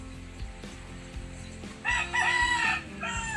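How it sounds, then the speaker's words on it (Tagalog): A rooster crows once, loud and close, in a long bright call rising over a steady low background rumble outdoors at night by the water. "Ayun, may kasamang manok."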